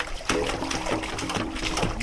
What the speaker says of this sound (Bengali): এক গামলা জল ভরছি